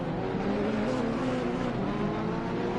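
Ferrari Challenge race cars roar at speed in a racing game at Circuit of the Americas, a steady, loud engine drone with a slight pitch wobble and no breaks.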